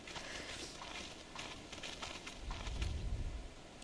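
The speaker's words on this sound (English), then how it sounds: "It sounds like a horse noise" Horse hooves clip-clopping in the video game Final Fantasy XIV, a faint, steady patter of hoofbeats in the distance, with a low rumble swelling near the end.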